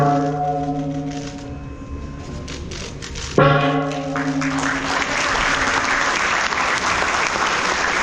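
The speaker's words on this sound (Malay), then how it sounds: "bagi menggunakan gimik perasmian dengan mengetuk gong yang telah tersedia" A gong struck at an official opening ceremony rings out once with a sharp attack and a long sustained, shimmering tone, and applause from a crowd swells right after the strike and continues over the fading ring.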